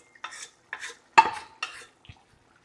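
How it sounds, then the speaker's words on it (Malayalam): A spoon stirring and scraping beef roast in a pan, four or five distinct scraping strokes with short gaps, close and moderately loud, followed by a soft clink, no talking. "ഞാൻ മൊത്തത്തിലൊന്ന് ഇളക്കി പിടിപ്പിക്കട്ടെ കേട്ടോ"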